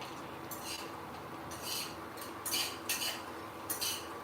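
Dal roasting dry in a pan for curry leaf chutney, heard as intermittent metallic scrapes and clinks of a spoon stirring against the pan over a faint steady hiss, close and moderately quiet.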